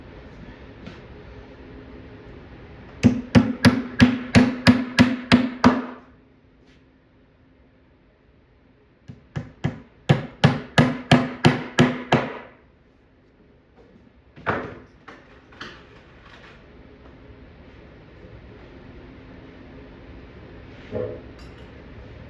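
Two quick bursts of rapid, evenly spaced hammer blows driving wooden sliders into place on an arcade cabinet base, each run of about eight hits, followed by a few scattered single knocks.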